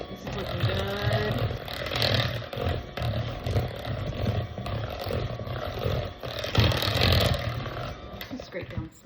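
An electric mixer whirs steadily through cheesecake batter after the eggs have gone in, a loud, continuous motor drone that runs the whole time with slight swells and no break.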